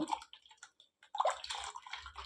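Water poured into dosa batter in a home kitchen, a short liquid trickle and slosh in the bowl, fairly quiet and close, with a brief pause before a fuller splashing stretch.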